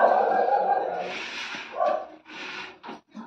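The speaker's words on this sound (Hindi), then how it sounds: "अपू भौंक रहा है" A dog barks at home in the evening, with a few short bark bursts alongside whimpers and yips, close by and moderately loud, while a person talks in the background.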